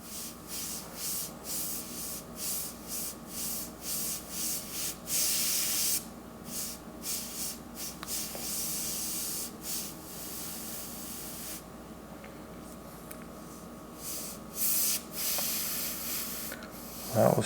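An airbrush sprays paint in a long run of short hissing bursts, each a second or so, close and steady. The bursts then stop for a quieter stretch and resume briefly near the end.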